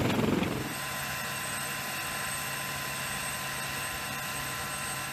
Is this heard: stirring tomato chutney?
no